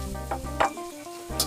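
Anchovies and peanuts stirred in a frying pan, with a soft sizzle and a few spatula scrapes, close and fairly quiet.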